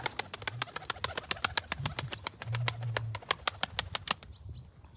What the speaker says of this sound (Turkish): Başkan kuşları da bir görelim